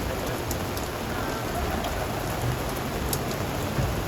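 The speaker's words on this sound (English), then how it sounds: "Oh, it's really raining hard now all of a sudden." Heavy rain pours down hard and steady outdoors during a sudden downpour at a railside spot, a dense, even hiss with scattered drops and no talk.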